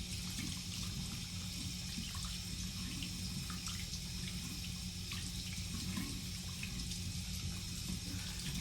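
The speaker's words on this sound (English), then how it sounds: "All right, so I'm just gonna rinse my finger off." Tap water runs steadily into a sink while a finger is rinsed, a continuous close splashing rush with no pauses or voices.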